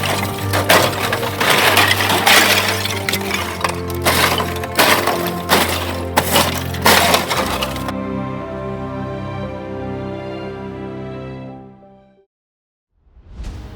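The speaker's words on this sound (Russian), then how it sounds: "если зайти в скопище маленьких льдинок, то по звуку получится, что ты идешь как будто бы по битому стеклу" Crisp crunching and tinkling cracks like breaking glass as feet walk through small ice floes on Lake Baikal, repeated irregularly up close, then a ringing, fading tail before a brief silence.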